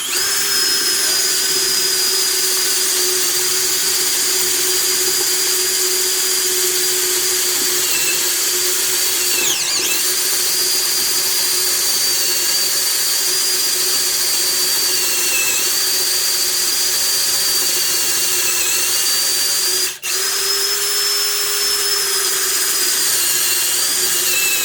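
A SteeleX jumbo brad point drill bit bores into a workpiece under heavy pressure, making a loud, continuous high whine and motor drone that holds steady for the whole stretch, with only brief dips and no talk.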